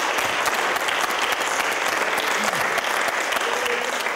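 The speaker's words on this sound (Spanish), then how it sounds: "Chavales, un aplauso para David." Sustained applause from a crowd gathered at a basketball event honoring a guest, steady and dense from start to finish with some background voices mixed in.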